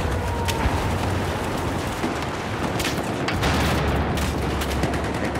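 Sustained gunfire in the video game Battlefield 4, dense crackling shots and bursts layered over a constant loud battle din, with no voices.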